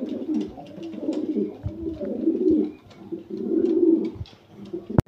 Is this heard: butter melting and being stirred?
no